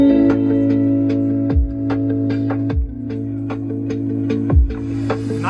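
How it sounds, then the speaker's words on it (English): Music with repeated punchy bass hits and bright plucked harmonic notes plays loud and steady through the new Yamaha audio system inside a refreshed 2025 Mitsubishi Outlander, with no voices over it. "Now we're gonna do an audio system test with this new Yamaha system"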